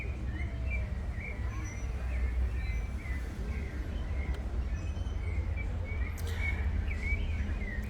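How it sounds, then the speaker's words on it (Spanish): Small birds sing and chirp repeatedly at a hilltop site, bright tweets recurring over a steady low background rumble, moderately distant with no voices over them. "escuchar esos pajaritos cantando, esas aves, todo el tiempo emitiendo su canto"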